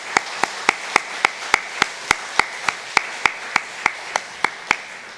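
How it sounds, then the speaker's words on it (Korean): A church congregation at a Sunday worship service claps in steady unison, about seventeen crisp, evenly spaced beats, loud and close, with no talking. "우리 차렷 인사할 때 다시 한번 뜨겁게 박수하겠습니다"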